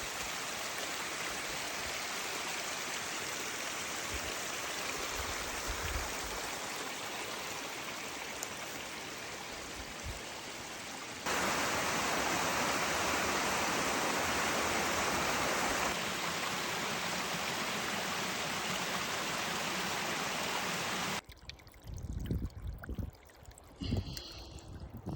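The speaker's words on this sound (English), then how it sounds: "Here I'll show you some footage of some of the creeks." Mountain creek in a clearcut block flowing steadily, a dense close hiss of rushing water that grows louder midway, then drops to faint trickling with a few bumps near the end.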